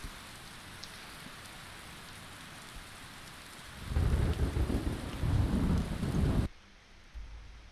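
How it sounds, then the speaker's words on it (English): Video-game rain during a live stream hisses quietly at first, swells into a loud, dense downpour with rumbling undertones, then cuts off abruptly; no one speaks. "Let me just get that noise of the rain out of the way"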